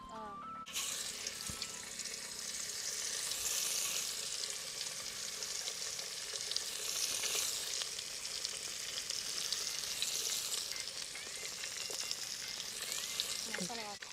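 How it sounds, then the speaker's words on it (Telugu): Fish pieces frying in hot oil, a dense continuous sizzle filling the whole stretch, close and fairly loud, with faint background noise and no voices. "కొంచెం ఆయిల్ వేసుకున్నాం. ముక్కలు వేస్తున్నాం మేడం."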